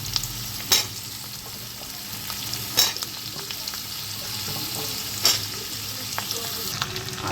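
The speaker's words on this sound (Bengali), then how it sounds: "একটু নেড়ে ছেড়ে আলুগুলো দিয়ে দেবো।" Diced potatoes sizzle in a pan, a constant frying hiss broken by a few sharp scrapes as they are stirred.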